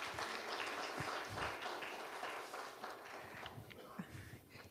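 Audience applause fills a hall at a political committee launch event, steady clapping from a crowd heard from a little distance, with some faint voices mixed in.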